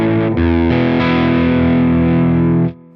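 Electric guitar with humbucker pickups running through a single-coil preset on a Line 6 HX Stomp XL: a loud, distorted chord struck twice, then held and ringing before it is cut off abruptly.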